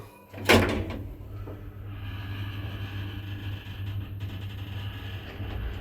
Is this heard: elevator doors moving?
yes